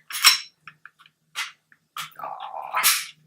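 A Glock 17 Generation 3 pistol is taken apart up close, giving a sparse series of crisp metallic clicks and short sliding scrapes separated by silence. The clip ends in a longer grinding slide and a final snap.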